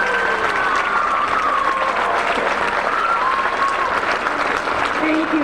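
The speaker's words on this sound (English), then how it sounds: "let's give all of them a nice warm round of applause" Warm audience applause for seniors at a school senior night basketball game, a continuous loud wash of clapping filling the hall, with a faint tonal voice or whistle drifting through.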